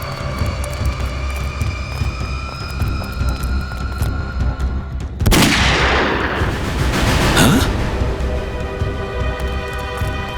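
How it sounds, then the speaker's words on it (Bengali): Gunfire in a Bengali CID crime drama breaks out as a sudden loud, sharp burst midway through, following a low steady hum, then trails off into a rushing roar. "গুলি চলার শব্দ"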